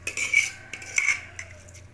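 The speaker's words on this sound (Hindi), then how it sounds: "इसको अच्छी तरह मिक्स कर लेंगे" A spoon stirs a Chinese rice mixture in a pot, giving several close metallic clinks and scrapes in uneven strokes, with no talking.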